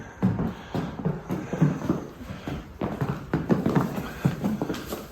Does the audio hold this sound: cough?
no